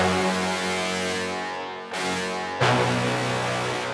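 Serum brass synth presets in sustained layered chords, with the higher one ringing longer than the lower; a brief dip, then a fresh brassy attack partway through, close and unaccompanied by speech.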